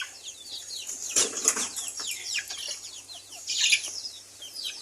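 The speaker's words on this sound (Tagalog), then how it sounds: "So, yun yung mga manok natin" Chickens and small chicks in a backyard coop give soft clucks and high peeping chirps, scattered and fairly close, with a brief burst of wing flapping.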